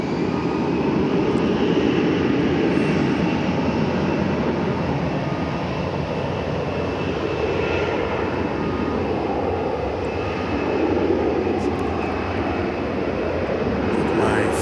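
An American Airlines jet takes off at DFW Airport, a broad, steady, loud roar of jet engines that holds for the whole stretch with slight swells.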